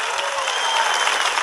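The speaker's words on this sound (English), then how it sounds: "Round of applause again for Flying Veda." Applause and cheering for a caller on a live-streamed call-in show, a dense, even wash of clapping that holds at steady loudness throughout the brief stretch, with no talk over it.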